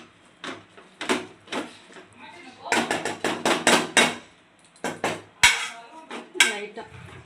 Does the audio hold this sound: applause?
no